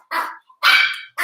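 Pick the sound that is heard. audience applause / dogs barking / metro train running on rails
dogs barking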